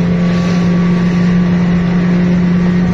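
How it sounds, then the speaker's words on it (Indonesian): Speedboat engine drones steadily at Boracay beach, a loud, continuous hum with buffeting wind noise throughout and no talk. "Sakay speedboat."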